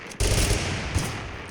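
An auto revolver in TABG fires in single shot mode, with one loud, abrupt blast followed by a long booming tail and a softer second report.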